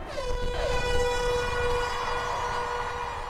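A loud, sustained race starting horn sounds once and holds steady for a few seconds over a dull crowd rumble of thousands of women runners.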